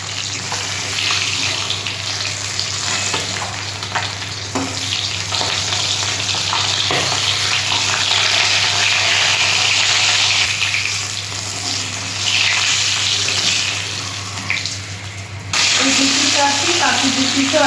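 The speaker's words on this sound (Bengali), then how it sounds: "এটা আমি খুব একটা লাল করে ভাজবো না, হালকা ব্রাউন কালার করে ভাজছি" Pieces of rohu fish sizzle and crackle steadily in hot oil in a kitchen pan, a loud continuous frying hiss that runs for the whole stretch, with occasional stirring and small shifts in intensity.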